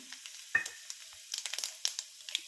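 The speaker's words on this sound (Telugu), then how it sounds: "పోపు వేస్తున్నా" Spices tempering in hot oil for wheat rava upma give off scattered light crackles and pops, faint and irregular, with short quiet gaps between bursts.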